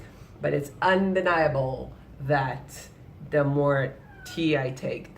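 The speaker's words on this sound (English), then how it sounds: "Also, if you hear the meow, that's my cat." A pet cat meows repeatedly in drawn-out, wavering calls mixed in with a person talking nearby indoors.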